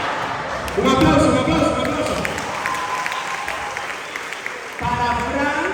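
Audience applause at a church conference talk, a broad wash of clapping that swells loudly, holds for a few seconds, eases, then surges again near the end.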